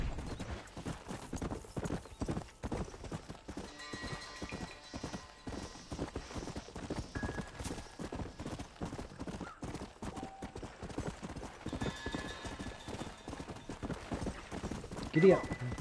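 Hooves of a galloping horse in a Western video game pound in a fast, continuous rhythm, with occasional whinnies and someone talking over the steady clatter.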